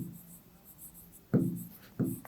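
Pen writing on paper during a maths lesson: two short, distinct scratchy strokes near the end, close and fairly quiet, over a soft background hiss with no talk.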